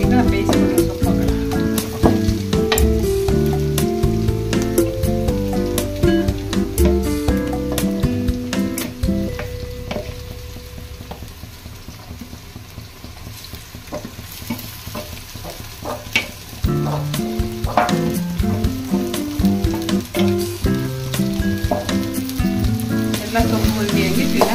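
Leafy greens fry in a tempering pan for soppina palya, sizzling and crackling up close with frequent stirring clicks, under tonal background music that dips in the middle.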